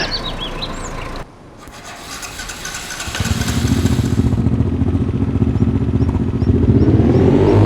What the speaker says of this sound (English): So maybe we just send the quad bike down there to go and grab that.